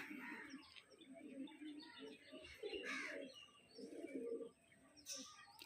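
A female Andhra pigeon coos softly and quietly in repeated low, throaty bursts, with a few faint chirps and rustles nearby.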